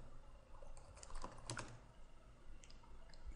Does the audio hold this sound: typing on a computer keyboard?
yes